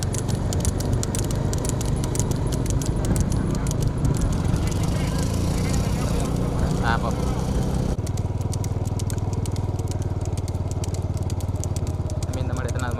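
Racing bulls pull carts past in a bullock cart race on a wet rural course, drawing dense rattling, rumbling and clattering hoofbeats under constant crowd noise, with a sharp shift in the din partway through and a loudspeaker voice throughout.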